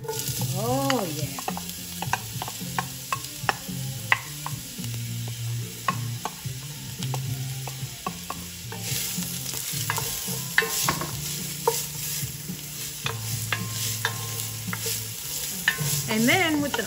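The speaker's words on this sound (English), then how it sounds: "we're gonna go ahead and saute the onions" Chopped onions sizzle steadily in hot olive oil for a Catalan stew with lobster and clams, with repeated scraping and clacking of a spoon stirring the pan, close and fairly loud throughout with no talking.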